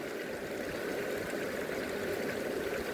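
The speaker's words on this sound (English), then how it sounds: "I love listening to the trickling of the water. It's really roaring over there in the background." A mountain creek flows nearby in a steady, unbroken rush, with water trickling close by and a fuller roar of the stream filling the background, with no voices present.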